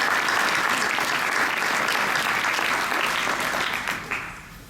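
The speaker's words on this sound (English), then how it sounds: "Let's give a round of applause for all our visiting royalty." Applause at a pageant coronation for the visiting royalty, with an audience clapping densely and steadily for about four seconds before it quickly tapers off.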